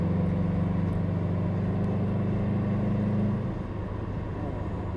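A Subaru WRX STI's engine gives a steady, loud, low rumble that holds for several seconds, then drops slightly in level and pitch as the revs ease off.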